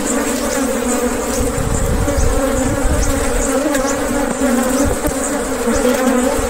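Honey bees buzz steadily and densely throughout a beehive inspection, a close, continuous drone with no voices over it.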